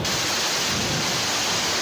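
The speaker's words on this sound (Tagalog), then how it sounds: "Sinabayan ng halos walang patid na ulan." Heavy, almost unbroken rain during a pre-Christmas weekend in Metro Manila, a dense steady hiss of downpour with a low rumbling undertone, loud and continuous throughout.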